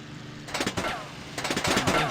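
Rapid bursts of enemy gunfire striking a plane in the IL-2 Sturmovik 1946 flight game, two short rattling volleys over a steady engine drone, with a voice talking.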